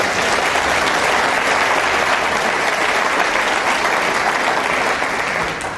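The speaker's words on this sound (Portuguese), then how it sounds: "Quantos podem aplaudir Jesus pela vida dele?" A church congregation applauds steadily and loudly throughout, a dense wash of clapping that fades only slightly at the end.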